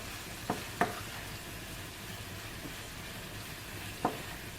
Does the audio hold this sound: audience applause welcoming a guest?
no